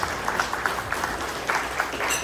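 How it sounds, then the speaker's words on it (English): An audience applauds at the Guam Chamber of Commerce general membership meeting, a steady mid-level patter of many hands clapping throughout. "Can we give him a round of applause?"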